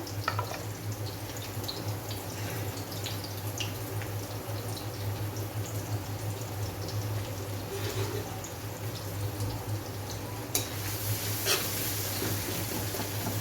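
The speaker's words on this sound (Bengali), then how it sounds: "কড়াটা গরম হয়ে গেছিলো আমি তেল দিয়েছি এবার একটু পেঁয়াজ দিয়ে দেবো পেঁয়াজ আর কাঁচা লঙ্কা" Onion and green chilli frying in hot oil in a heated pan, giving a steady, continuous sizzle with a low hum beneath and a few sharper crackles near the end, with no talking.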